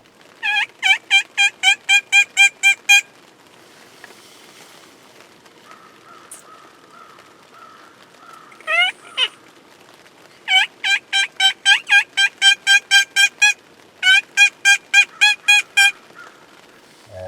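Wild turkeys gobbling during a spring hunt, loud rapid bursts of rattling gobbles repeated in several runs, close and clear over a quiet background.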